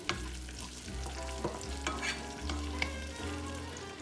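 Sambal sauce being stirred into a frying pan for spicy sweet salmon, a close, continuous sizzle with a few soft spoon scrapes and knocks, and nobody speaking.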